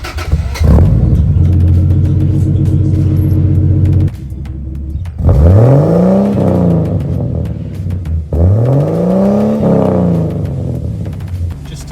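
A big-turbo Toyota Land Cruiser 80 Series with a screamer pipe rumbles loudly, then pulls hard through two rising rev sweeps as it comes on boost, with the wastegate hiss of the screamer pipe rising above the deep exhaust.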